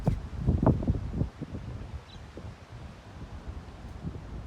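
Steady outdoor wind buffeting the microphone, with low rumbling gusts that are stronger at the start and ease off afterward.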